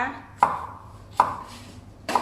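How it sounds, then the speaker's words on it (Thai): A sharp knife chops fresh chillies on a board for pickling: three crisp, close chops land at uneven intervals, with quiet gaps between. "ขั้นตอนแรก เรามาหั่นพริกก่อนนะคะ"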